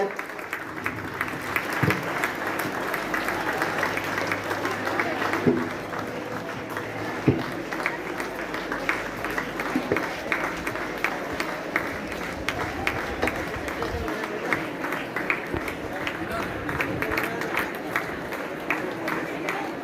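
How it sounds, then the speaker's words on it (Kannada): An audience at a Karnataka Rajyotsava song celebration keeps up steady, sustained applause, with a few louder knocks and murmuring voices mixed into the clapping. "ನಿಮ್ಮ ಚಪ್ಪಾಳೆ ನಿರಂತರವಾಗಿರಲಿ."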